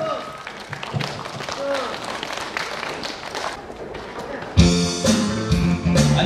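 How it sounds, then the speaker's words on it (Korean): An outdoor concert stage at a Korean song festival in a park, where the crowd's applause and cheering swell under a host's talk before a singer performs, then loud music starts near the end. "박수 주시기 바랍니다."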